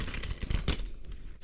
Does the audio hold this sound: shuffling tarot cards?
yes